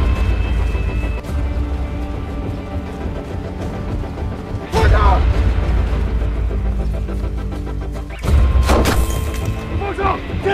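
Two loud gunshot-like blasts go off several seconds apart in a Chinese special-forces action drama, cutting sharply through a tense, rumbling background.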